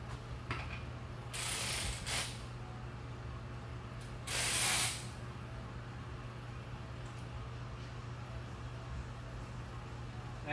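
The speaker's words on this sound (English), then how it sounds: "I'm just going to torque it with a torque wrench." Torque wrench ratcheting on clutch pressure plate bolts of a 2008 Mazda 3 S, two short bursts of clicking over a steady low hum, moderately close and faint.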